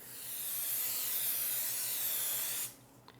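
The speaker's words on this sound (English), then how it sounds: "now I have a 24 count muffin pan that I'm going to spray with cooking spray" Cooking spray hisses steadily onto a 24-count muffin pan in one continuous burst of almost three seconds, close and fairly loud, then stops abruptly.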